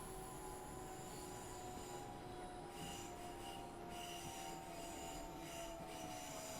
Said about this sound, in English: let's bring the train to a stop now.